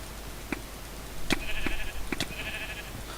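Sheep in a video game bleat several times in short, fairly close calls, spaced out over a quiet background with no talk.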